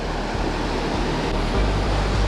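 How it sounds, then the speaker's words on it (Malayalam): Steady roar of ocean surf breaking on a shore, broadband and continuous with a slight swell in loudness near the end, no voices. "അതിൻ്റെ അപ്പുറം കടലാണ് ഈ കാണുന്നത്"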